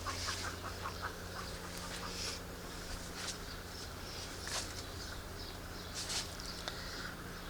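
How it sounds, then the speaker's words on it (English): A startled chicken clucks in a garden, faint and somewhat distant, with sporadic short calls over a steady background hum. "Something scared the chicken."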